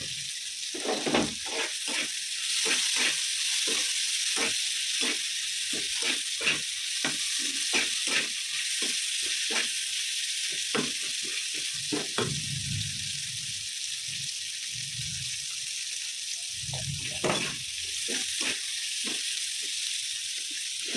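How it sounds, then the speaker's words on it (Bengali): Potato pieces fry in a small amount of oil for biryani, giving a continuous bright sizzle broken by frequent scraping and stirring knocks, with a few low bubbling surges, close by. "আর একটু কম তেল দিয়েছি শুধু আলুটা ভাজার জন্য"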